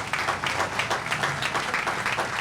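An audience at a July 4th patriotic program applauds for a Navy World War II veteran, a steady dense patter of many hands heard from a moderate distance.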